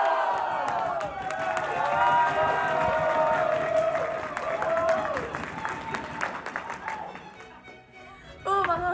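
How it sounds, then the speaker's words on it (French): A crowd applauds and cheers for a newly named student union officer, with whoops and shouts rising over the clapping while a musical tone and voices sound underneath before it cuts off abruptly. "Un tonnerre d'applaudissements pour Candice Guillaume"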